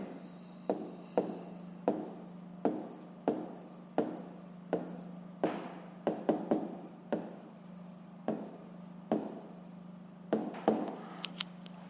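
Handwriting in a Ukrainian fifth-grade maths exercise, a pen scratching steadily across paper with a regular run of short strokes and taps, close and soft over a faint constant hum.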